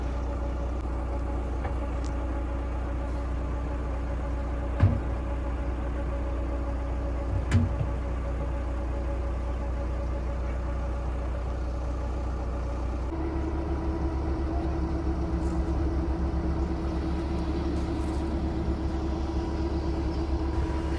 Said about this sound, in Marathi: ही जागा कोस्टल हायवेला लागूनच आहे. त्यामुळे तुम्हाला पाठीमागून बसेस, गाड्या वगैरे जाताना दिसत आहेत.